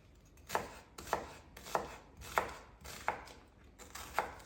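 A knife chops onion coarsely on a board in six steady, evenly spaced strokes, each a crisp close thud, with no talking.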